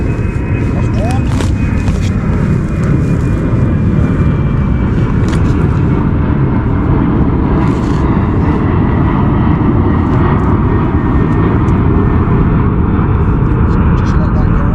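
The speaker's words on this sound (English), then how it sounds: "An aeroplane" A propeller aeroplane drones loudly and continuously overhead in an open field beside a hedgerow, a broad steady rumble lasting the whole stretch.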